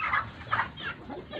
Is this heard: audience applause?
no